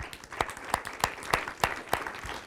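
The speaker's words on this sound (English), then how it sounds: "a round of applause for you" A small audience at a startup talk claps in a sparse, evenly spaced rhythm, distinct individual claps rising from a quiet room rather than a full ovation.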